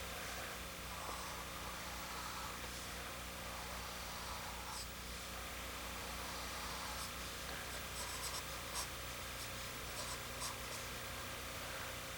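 A pen drawing an airplane on paper, with soft continuous scratching strokes and a few brief taps, faint and close over steady background hum.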